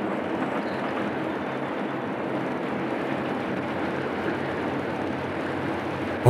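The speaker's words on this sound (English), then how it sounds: "Always a big train." A long Delaware & Hudson freight train, filmed near Damascus in April 1980, rolls past in a steady, continuous rumble that holds at an even level throughout, with no one talking.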